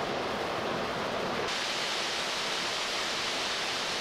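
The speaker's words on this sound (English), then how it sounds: "Pretty waterfall, all iced over." Water pours steadily over a partly iced-over creek waterfall in winter in Harz National Park, Germany, a continuous broadband rushing hiss that brightens partway through, heard up close with no voices.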